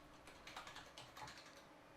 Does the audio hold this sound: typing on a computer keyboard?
yes